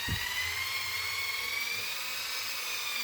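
Motorised polisher working WSR powder across crusty bathroom wall tiles, a steady high-pitched whine with a low motor rumble, continuous and close, with no talking.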